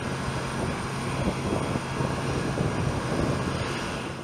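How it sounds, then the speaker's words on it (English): A Boeing 747-8F freighter, the cargo version of the 747-8, gives a steady, broad jet-engine roar that stays loud and even throughout with no voices. "One of the newest and most prominent of these full-sized cargo aircraft is the Boeing 747-8F."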